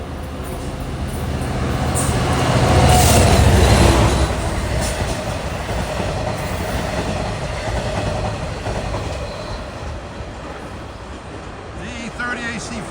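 A Long Island Rail Road train rolls loudly past Queens Village station, a heavy rumble that swells and then holds steady with wheel clatter and a faint squeal. Someone speaks over it.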